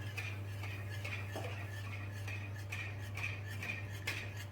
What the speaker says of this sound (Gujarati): આને કન્ટિન્યુઅસ મિક્સ કરતું જવાનું છે,